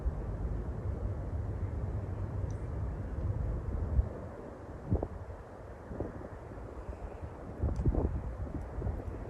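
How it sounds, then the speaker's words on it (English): Low, steady wind rumble buffeting the microphone at night in Columbia Cemetery, Boulder, Colorado, quiet overall, with a few faint knocks and thumps scattered through it. "Has it been that windy all night?"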